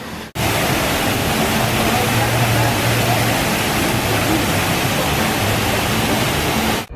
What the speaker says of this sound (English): So here is the Wilderness Lodge and they have a waterfall here.